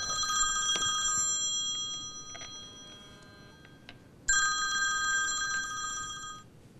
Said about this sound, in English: Sorry, that's my phone, Nick.